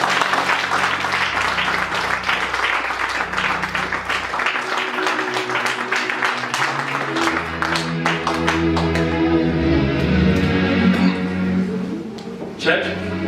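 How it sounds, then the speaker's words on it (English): A church congregation claps during a Sunday service, a brisk run of many hands clapping that merges with a rising sustained organ or keyboard chord, voices faintly mixed in. "Let's clap our hand for Jesus."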